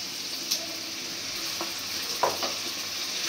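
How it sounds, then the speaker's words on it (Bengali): Ginger and garlic spice paste fries gently in oil, a faint steady sizzle broken by a few soft stirring scrapes, heard close and without any voices. "মশলাটা তেলের উপরে একটু কষাই নিব।"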